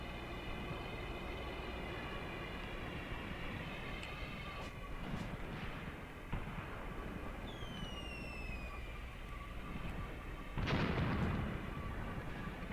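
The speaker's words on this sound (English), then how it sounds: "we're taking very, very heavy mortar fire here on our attacking sappers now" Heavy mortar barrages in the World War II strategy game Graviteam Tactics, set around Kharkov in 1942: a steady roar of distant fire with scattered booming impacts, one stronger blast near the end, and whistling shells passing overhead.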